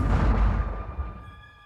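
Cannon fire in an animated series about woodland animals at a pheasant shoot, a loud booming blast that rumbles and fades away over a second or so, with no speech.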